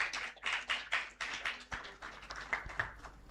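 An audience at a medical event applauds, with scattered, uneven clapping from a modest crowd sounding faint and somewhat distant, rising and falling in small bursts.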